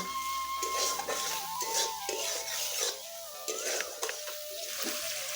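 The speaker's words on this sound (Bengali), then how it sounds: "এখন আমি মশলাটাকে এভাবে নেড়ে নেড়ে কষিয়ে নিব।" Spice paste for a vegetarian cauliflower kalia is stirred and roasted in a pan, a spoon scraping and clinking steadily against the metal over a soft, continuous sizzle.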